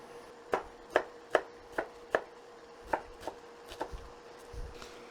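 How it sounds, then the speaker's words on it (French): Knife chopping onions on a board for a Spanish tortilla, about a dozen crisp, uneven taps close by with brief pauses, no talking. "Pendant ce temps-là, on va couper nos oignons"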